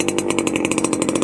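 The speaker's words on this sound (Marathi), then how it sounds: "भरपूर असा आवाज त्या सायलेन्सरमधनं होत आहे," A Yamaha RX100 motorcycle runs with no silencer fitted, giving a loud, rapid, rasping two-stroke buzz with even pulses, close and continuous and with no voices.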